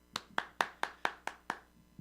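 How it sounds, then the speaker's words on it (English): Hand claps, seven of them, evenly spaced and crisp, fairly faint, with nothing else behind them. "Just one clap or a couple."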